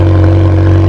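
A McLaren 720S supercar with sport exhaust runs loud and close right after startup, a steady deep engine drone with strong low harmonics and no voices.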